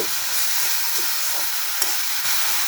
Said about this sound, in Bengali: এগুলি হালকা নেড়ে চেড়ে নেব